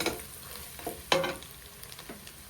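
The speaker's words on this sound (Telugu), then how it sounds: "ఇప్పుడు ఇదంతా ఇట్లా ఫ్రై అయింది" Goat tripe (boti) fries in a pan with a soft, steady sizzle, broken by a couple of brief spatula scrapes. Faint and close.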